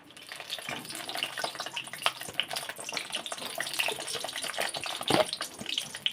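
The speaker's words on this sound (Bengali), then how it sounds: "এই যে বেগুনগুলো তেলে ভেজে নেব" Eggplant pieces fry in hot oil in a wok, giving a steady, close crackling sizzle with scattered pops and a sharper burst near the end, with no talking.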